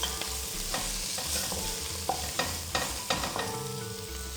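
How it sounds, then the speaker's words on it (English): A chicken fried rice mixture sizzles in a pan while being stirred, with a constant frying hiss and regular spatula scrapes and taps against the pan at close range. "I'm going to give this whole mixture a"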